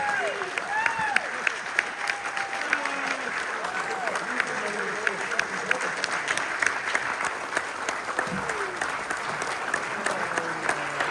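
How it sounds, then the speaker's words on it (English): Big round of audience applause for former baseball player Jesse Barfield at a Hall of Fame weekend event, dense and sustained clapping from a sizable crowd, with voices calling out and cheering throughout. "let's have a big round of applause"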